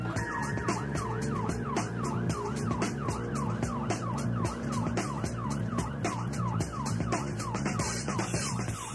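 An ambulance siren wails continuously as the crew races to an emergency call on a busy high street, its rising and falling cycles repeating steadily over a low vehicle engine rumble, close and loud.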